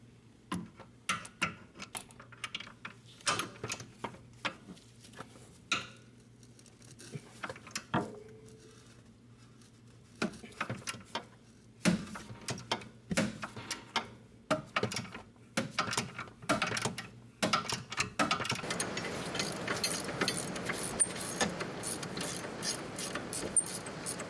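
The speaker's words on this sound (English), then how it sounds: "now we're gonna remove the caliper bracket bolt" A ratchet clicks in rapid bursts loosening a caliper bracket bolt on the rear brakes of a Mercedes E350, close and fairly quiet, with short pauses between runs and a steadier stretch of clicking near the end.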